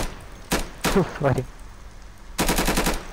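Automatic gunfire in a video game comes in three sharp bursts of rapid shots: a short one, a longer rattling run, then a final fast volley, loud and close, with a voice briefly between them.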